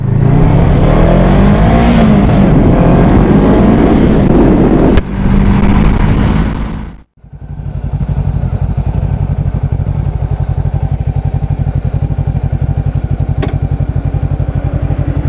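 Motorcycles roar past at close range, loud revving engines rising and fading, then a steady throbbing engine drone continues after a brief dip.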